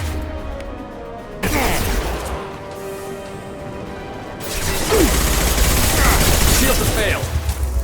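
Gunfire from Mass Effect 2 Legendary Edition, a burst of crashing shots followed by sustained rapid automatic fire, loud and close, with combat voices talking over it.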